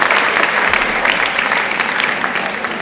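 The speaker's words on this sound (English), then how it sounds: "Please clap for her, please clap for her." An audience at a spiritual discourse on the Srimad Bhagavatam claps for a woman, a loud, dense burst of many hands applauding continuously with slight swells in intensity.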